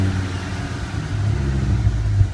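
Gen 2 Dodge Viper 8-liter V10 fitted with a custom FMU exhaust, a deep, close engine rumble that swells slightly toward the end as if revving, with no speech.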